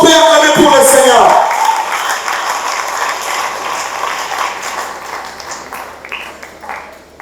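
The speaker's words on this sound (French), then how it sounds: "Est-ce qu'on peut acclamer pour le Seigneur?" Audience applause and cheering at a Christian worship concert, a dense wash of clapping that fades gradually from loud to softer over several seconds, with voices mixed in.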